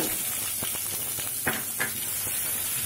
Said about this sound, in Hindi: डाल को थोड़ा सा फ्राई कर लें फ्लेम स्लो से मीडियम रखेंगे